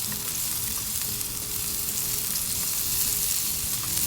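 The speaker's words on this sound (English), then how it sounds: "We're going to put some butter on there" Butter sizzling on a hot griddle while halibut cooks, a steady close hiss and crackle of frying fat with no talking.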